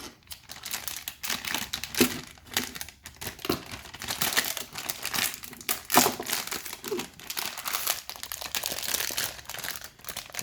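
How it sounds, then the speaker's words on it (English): Plastic packaging around a Seagate BarraCuda 2TB 3.5-inch hard drive is cut open, making close, steady crinkling, crackling and tearing sounds for several seconds with no talking. "Just gonna cut that open real quick."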